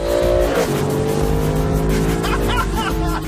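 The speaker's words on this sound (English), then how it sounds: "let's see what this SLS Black is like to drive." A Mercedes-AMG SLS Black Series is driven, its engine droning loudly with steady harmonic tones and a falling pitch shift early on, then a continuous close-up engine note as the car moves along.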